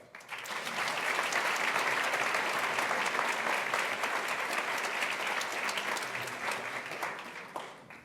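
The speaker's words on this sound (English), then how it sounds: "Let's give him another round of applause." A round of audience applause at a nonprofit governance symposium, swelling quickly to a full, even clatter of many hands, holding steady, then thinning out toward the end.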